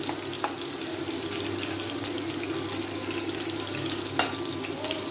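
Bitter gourd (karela) frying in a pan, a continuous close hiss and sizzle with occasional sharp pops and crackles, no talking.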